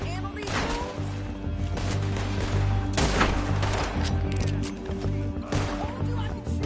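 Gunfire in Red Dead Redemption 2 sounds as a dense, continuous exchange of shots with sharp cracks bursting over a steady low rumble, while a voice speaks across it.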